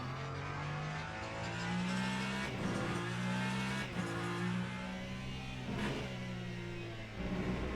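Le Mans Ultimate race cars at Bahrain: the race leader's engine drones and shifts pitch as it overtakes a BMW, steady loud engine tones with gear changes every couple of seconds and a faint tire squeal.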